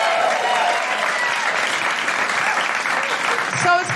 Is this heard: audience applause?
yes